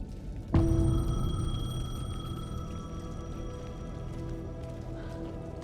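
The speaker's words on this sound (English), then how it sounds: "The payphone was ringing." A payphone rings in the video game Alan Wake 2, a sharp tonal bell that starts abruptly and then hangs as a long sustained ringing tone over a low ambient rumble, with no one speaking.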